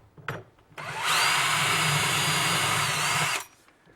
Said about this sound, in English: lock it on this end, and drill one more hole.